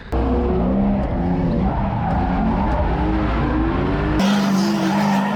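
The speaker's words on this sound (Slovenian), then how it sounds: "To je bilo nekaj utrinkov iz testiranja na novo sestavljenega E36 drift avta." A BMW E36 drift car swapped with a Toyota 3UZ-FE V8 slides under load on a shakedown test, its tires squealing in long wavering howls over a loud, droning engine that drops to a steadier tone near the end.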